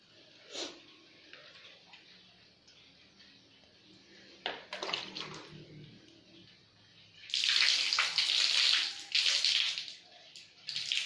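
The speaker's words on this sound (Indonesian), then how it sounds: "kita bilas menggunakan air mengalir supaya deterjen yang ada di alat bisa bersih" Water runs and splashes loudly from a tap in bursts, with brief clatters of medical instruments being handled and rinsed of detergent beneath the stream.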